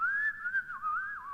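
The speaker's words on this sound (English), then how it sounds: "Whistle." Solo human whistling, a single sustained wavering tone gliding up and down, quiet and close with no other sounds.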